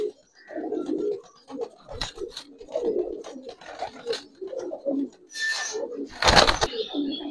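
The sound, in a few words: pigeons cooing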